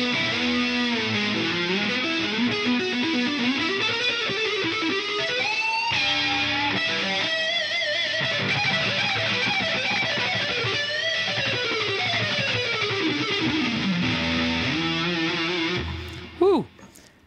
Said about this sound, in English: I think the chorus sound ends up being the most versatile in here.